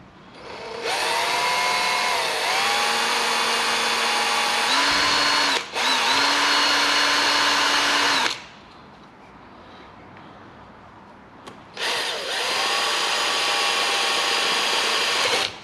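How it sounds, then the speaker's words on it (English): A power drill runs loud and steady at close range, with a whining motor pitch that shifts as the load changes. It stops once briefly, then keeps running, cuts out for a few seconds and starts up again. "Don't want to use the drill, but probably going to use the drill."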